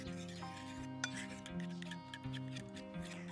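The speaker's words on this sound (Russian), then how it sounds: "растираем с желтками. Зелень, лук, хрен. Хорошенько растерли" Horseradish, chopped greens and onion being mashed and rubbed together with egg yolks in a bowl, giving a soft scraping and rasping that carries on with a steady musical tone underneath.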